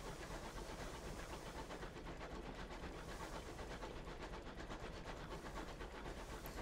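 The engine of an airship locomotive in the video game Sunless Skies gives a steady, low, continuous rumble with a faint rhythmic chug and hiss, heard quietly and alone.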